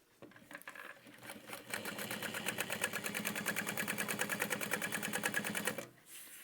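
A sewing machine runs a double row of top stitching on a handbag, with a fast, even mechanical chatter of needle strokes that holds steady for several seconds before stopping.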